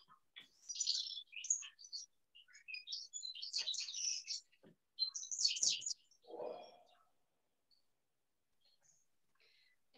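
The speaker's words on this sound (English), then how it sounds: "So let's listen to the goldfinch." Goldfinch song in farmland, bursts of bright twittering chirps and rapid trills, with a short buzzy note among them, in close clear phrases separated by brief pauses before the bird falls silent.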